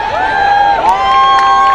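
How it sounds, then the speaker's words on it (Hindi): A college crowd at a commerce department fest cheers and shouts loudly for a boys' group, with sustained, voice-like whoops ringing out close and strong throughout. "Big round of applause for our boys."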